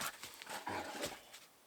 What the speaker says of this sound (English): I have this dog.